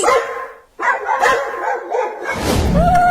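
Several dogs bark in quick overlapping bursts, loud and close, with a brief pause near the start and a sharp yelp toward the end.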